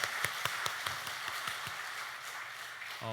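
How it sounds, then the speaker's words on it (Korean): A church congregation applauds the choir after a hymn, with faint scattered claps in a rhythmic patter under a steady room hum, ending with a brief tone. "우리 임마누엘 찬양대의 귀한 찬양 다시 한번 감사의 박수 보내드리겠습니다."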